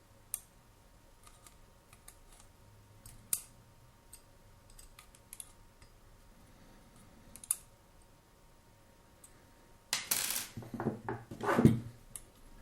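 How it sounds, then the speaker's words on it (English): Counter screws being tightened on a cheap Morse code CW paddle give sparse, faint metallic clicks and ticks over a quiet hum, ending in a louder burst of close handling and rattling. "we should tighten the counter screws on the front"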